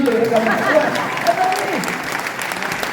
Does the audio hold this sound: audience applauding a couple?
yes